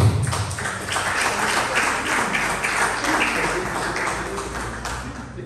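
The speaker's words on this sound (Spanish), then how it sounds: "vamos a recibirle con un fuerte aplauso" Audience applause for a speaker at a lecture on the ruler of Palenque, dense and steady throughout, fairly loud, with some voices mixed in.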